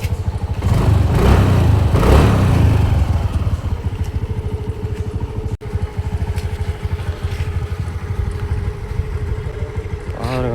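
A TVS Jupiter scooter engine runs close by, roaring loudly at first and then settling into a steady, even idle that continues to the end.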